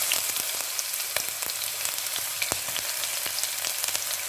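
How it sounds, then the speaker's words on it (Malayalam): Garlic dropped into hot coconut oil in a pan sizzles loudly and steadily, with a dense hiss broken by small pops and crackles throughout. "എണ്ണ ചൂടായിട്ടുണ്ട്. ഇതിലേക്ക് വെളുത്തുള്ളി ഇട്ട് കൊടുക്കാം."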